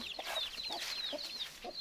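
Chickens clucking close by in a series of short, repeated clucks, with thin bird chirps mixed in and no talk.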